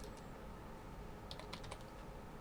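Keys clatter on a computer keyboard as a Linux terminal command is typed, a short quick burst of close, crisp clicks near the end after a few light taps.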